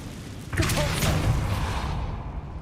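Depulso push spell cast in the video game Hogwarts Legacy, a sudden swelling whoosh with a low rumbling thump that rises at once and lingers, then tails off slowly.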